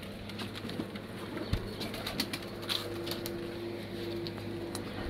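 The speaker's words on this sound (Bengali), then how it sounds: "এগুলো হচ্ছে দেশি কবুতর আর এগুলো হচ্ছে লটন কবুতর।" Native and Lotan pigeons at a pigeon farm in the morning, soft cooing and scattered wing flaps against a steady background hum, with one sharp knock midway and no speech.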